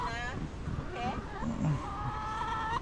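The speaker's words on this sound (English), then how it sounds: "disturbing the hens" Hens cluck and squawk in short bursts close by at Port Arthur, Tasmania, with murmuring voices in the background.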